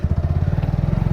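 A Bajaj Dominar 250 motorcycle exhaust thumps out a rapid, even burble close by, a short loud low-pitched pulse with no voices.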